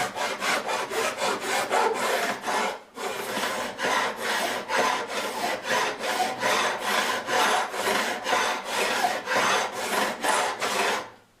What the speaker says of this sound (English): It's a Nicholson, what they call a bastard file.